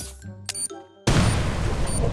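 A grenade blows up in the Free Fire video game, a sudden loud booming blast that cuts off game music and sound effects and rumbles on steadily to the end.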